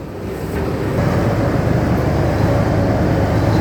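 Steady wash of boat wake waves and churning water on Khlong Saen Saep canal in Bangkok, with wind buffeting the microphone throughout and no voices.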